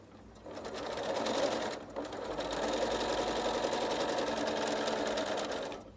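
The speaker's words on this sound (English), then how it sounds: "foot and needle down, and then I'm just going to sew slowly" Sewing machine slowly stitching quilt block seams, a steady close whirring hum with rhythmic needle chatter, pausing briefly once, then running on evenly.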